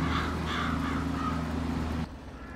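Crows caw repeatedly in Farming Simulator 22, several harsh, loud calls in quick succession over a steady low engine drone that stops abruptly near the end.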